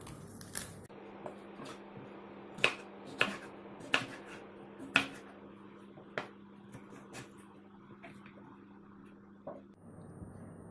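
A knife cuts through a red vegetable on a board, a handful of close, crisp chopping taps spread over several seconds against a faint background hum.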